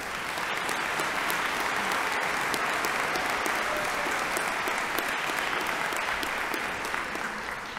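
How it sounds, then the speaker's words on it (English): An audience applauds the choir and ensemble at an academic installation ceremony, a steady, dense wash of many hands clapping that holds at full strength for the whole stretch without letup. "Let's give them all a round of applause."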